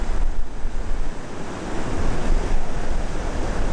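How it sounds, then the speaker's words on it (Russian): Waves and wind at a hotel beach in Kusadasi, Turkey: a broad, steady rush of surf with gusting wind buffeting the microphone, loud and continuous with no voices. "Пляж отеля."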